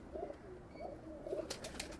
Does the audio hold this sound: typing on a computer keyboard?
no